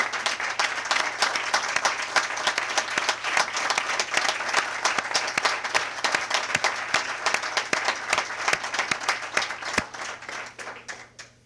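A roomful of people at a municipal council meeting applauds the town's employees, with sharp individual claps standing out in a loud, steady burst that thins toward the end.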